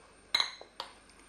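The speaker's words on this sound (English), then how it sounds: "I want to add in my potatoes now." Peeled, chopped potatoes tipped into a pan already holding lentils, giving two brief clattering knocks close by with a faint clink in between and no talking.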